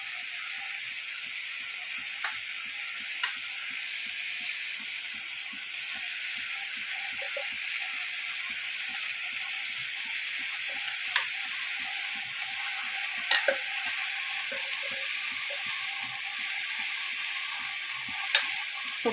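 Grated coconut goes into vegetables frying in a pan and is stirred, giving a continuous even sizzle with occasional light scraping clicks.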